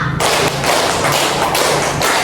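Five loud, evenly spaced bursts of group hand clapping beat a counted rhythm in unison, each clap sharp and close with brief gaps between.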